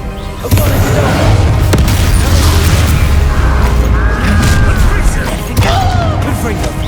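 A Bombarda spell explosion in Hogwarts Legacy booms amid continuous loud, heavy battle noise, with deep rumbling, crashes and clattering effects throughout, while voices and shouts are heard on top.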